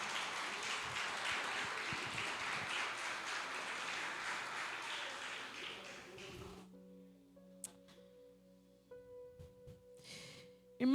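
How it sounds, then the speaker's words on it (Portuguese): A church congregation applauds at a service, a dense steady wash of clapping that fades and stops after about six and a half seconds, leaving a quiet room with soft tonal sounds. "Se assente aplaudindo a Jesus pela sua palavra"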